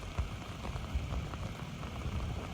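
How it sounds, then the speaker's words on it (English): Early-morning rain falling on a camp at Cape Scott, a soft continuous patter and hiss with occasional heavier drops, fairly faint and alone. "Started raining about 4:45 this morning."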